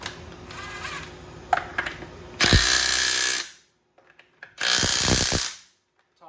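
Impact wrench driving wheel lug nuts during a home tire rotation, two loud sustained whirring bursts of about a second each, separated by a brief quiet gap, with small clicks and clatter before and between them.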